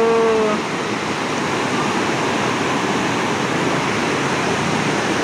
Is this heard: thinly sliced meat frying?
no